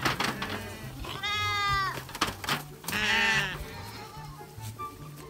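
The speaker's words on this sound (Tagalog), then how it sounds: "Ayan yung tupa oh." Sheep bleating on a farm pasture, two long, loud wavering bleats close by with a shorter cry between them, set against steady livestock and outdoor background noise.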